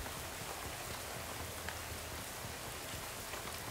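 Steady rain falls on surfaces in the Shadows Over Loathing video game, a dense, even hiss that holds constant throughout with no voices.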